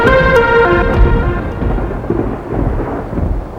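Loud thunder rumbles and crackles heavily for a few seconds, with a dense low roll that slowly fades as rain begins to patter, heard alone without voices on a hot summer day.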